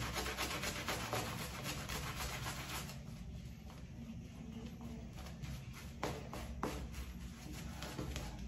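A Yaqi Atlantis shaving brush with a soft spine builds lather, making a steady, close swishing rub that softens midway and carries a few faint taps.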